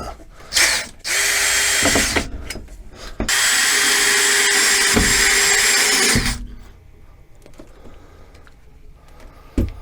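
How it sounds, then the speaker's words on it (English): Power drill driving screws at an angle into a 2x4 bed frame in an RV bedroom, sounding as a short loud whir followed by two sustained high-pitched runs of about two and three seconds, then quiet room noise. "So screwing down at an angle into them."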